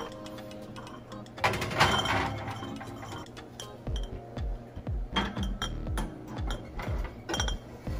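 Clean, sanitized glass canning jars clink and clatter against each other and the oven rack as they are set into a kitchen oven to dry, with a burst of jostling followed by a series of separate sharp knocks.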